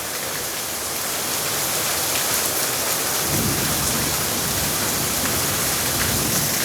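Heavy rain in Rajahmundry roars continuously onto plants and ground, growing fuller partway through as a deep rumble joins the downpour.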